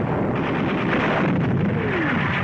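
A shell bursts on a German 88mm gun position in the North African desert in 1943, heard as a loud, sustained rumbling roar that fills the whole clip.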